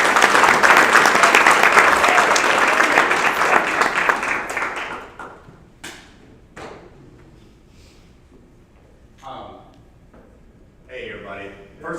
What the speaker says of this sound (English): So let's give him a hand clap, you guys.